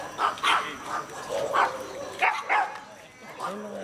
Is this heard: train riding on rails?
no